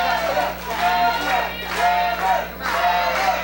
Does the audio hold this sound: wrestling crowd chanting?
yes